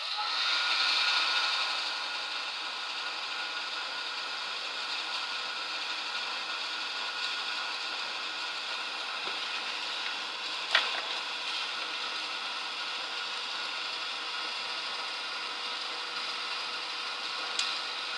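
A heat embossing tool melting embossing powder, a steady whirring fan-heater hum held continuously near the mic with a faint click or two.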